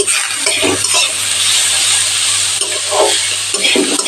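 Two vegetables lightly frying in a pan for a cheesy veg stuffed bun filling, a steady close sizzle with soft scraping stirs recurring throughout, alone without talk.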